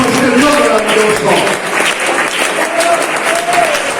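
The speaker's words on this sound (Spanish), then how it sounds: "primero fuerte ese aplauso a este Dios maravilloso" A church congregation bursts into loud, sustained applause, with voices calling and singing over the clapping throughout.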